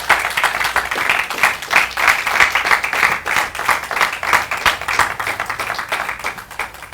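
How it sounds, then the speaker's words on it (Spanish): A church congregation claps for the Lord in loud, rhythmic unison, a strong pulsing beat of many hands held steady for several seconds and easing slightly at the close. "¿Me pueden dar un aplauso para nuestro Señor?"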